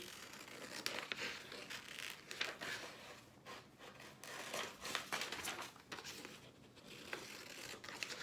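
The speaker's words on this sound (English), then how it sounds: "I'm going to cut out this airplane." Scissors cut out a paper airplane: quiet, close snips and crinkling, rustling paper in an uneven rhythm of short bursts.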